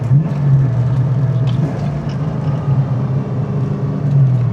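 A Fox-body Ford Mustang with a T5 manual gearbox cruising at steady speed, a low constant engine drone and road rumble from inside the car, with no talk.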